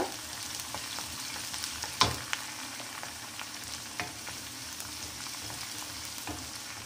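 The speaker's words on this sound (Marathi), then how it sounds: "मिरचीला थोडं परतून घ्यायचं 1 मिनिट" Green chillies sautéing in a pan for a cucumber curry give a steady hiss of frying, with scattered clicks of a spatula and one sharp scrape near the middle. No one speaks.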